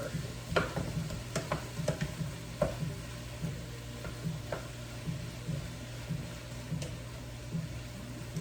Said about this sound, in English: And now I'm going to incorporate the potatoes and just mix it all around and let it all kind of cook in the juices